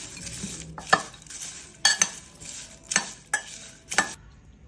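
Salt, chili powder and garam masala being stirred into fried okra and cashews in a pan: rhythmic scraping strokes of a spoon, about five distinct pushes over a steady low sizzle, close and clear with no voices.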